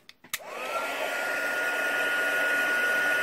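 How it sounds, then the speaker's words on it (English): A handheld heat tool melts clear embossing powder on a stamped card, starting after a few quick taps and then blowing a loud, steady whir with a faint rising whine for the rest of the time. "And I'm just going to zap that with my heat tool."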